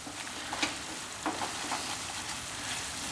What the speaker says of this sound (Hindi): जब भी आप भुने इसको तेज फ्लेम पे तो लगातार इसे बढ़िया मिक्स करते रहें।